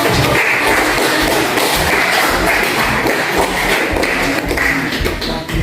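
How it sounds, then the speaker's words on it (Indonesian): A classroom audience applauds in a dense, continuous burst of clapping that stays loud throughout. "Kita beri aplaus dulu."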